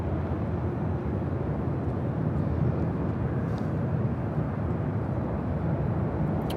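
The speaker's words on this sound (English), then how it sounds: "Next arrival on the north side is Delta Airlines flight 2272 coming from SFO." A Delta Airlines A320, an older ex-Northwest jet, arriving at LAX: a steady, broad roar of jet engine noise, fairly distant and sustained throughout with no voices.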